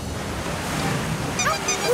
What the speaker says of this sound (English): And here comes a really big wave.